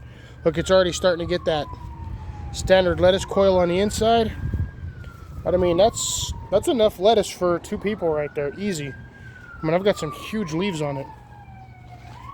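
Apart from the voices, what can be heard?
emergency vehicle siren passing nearby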